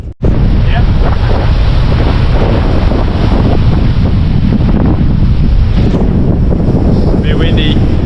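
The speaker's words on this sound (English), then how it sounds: "Very windy." Strong wind buffets the microphone at the Quobba blowholes on the coast, a loud continuous roar mixed with surf from start to finish.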